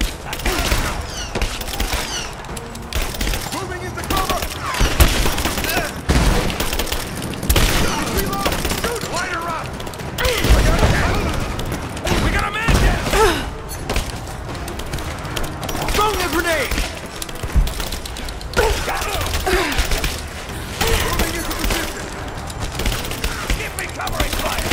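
Sustained gunfire rattles through a Rise of the Tomb Raider firefight, with dense bursts and shots that are loud and nearly constant, while people talk over the action throughout.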